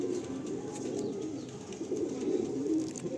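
Pigeons of a Nepalgunge breed cooing softly and continuously nearby, low burbling calls overlapping in a quiet setting with no talk.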